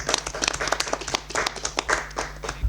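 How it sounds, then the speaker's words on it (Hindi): Scattered hand clapping rises from a small audience at a Hindi quiz competition, applauding the second-place team with uneven, fairly soft bursts. "आपके लिए जोरदार तालियां।"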